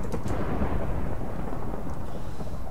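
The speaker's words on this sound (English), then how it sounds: "That lightning." Thunder from a lightning strike in the Minecraft Villager Defence minigame, a loud, deep continuous rumble that fills the whole clip with no speech over it.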